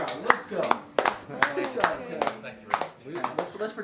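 A small group claps by hand for Kaz, the creator of a juice shop, with a burst of distinct, uneven claps and scattered voices and chatter mixed in.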